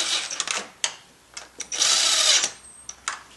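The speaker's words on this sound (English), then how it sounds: "I'm just going to run it down snug with this impact." An impact wrench runs a bolt down snug on a car engine in a handful of short, close, whirring bursts separated by brief pauses.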